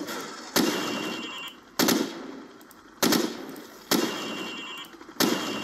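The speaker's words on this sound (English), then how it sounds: "Now, shoot at the targets while firing from the hip." Rifle shots fired from the hip at targets in Call of Duty 4: Modern Warfare, five loud, sharp reports spaced roughly a second apart, each ringing out briefly with no talking.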